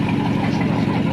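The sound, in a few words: vintage 100-year-old car engine idling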